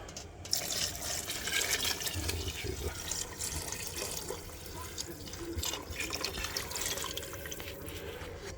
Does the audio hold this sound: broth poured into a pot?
yes